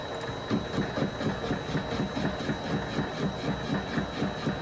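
A Vevor MX 400 mini lathe runs at lower RPM while cutting and reclaiming metal stock. A steady mechanical drone carries a regular, rapid rhythmic chatter throughout, moderately close and without talk.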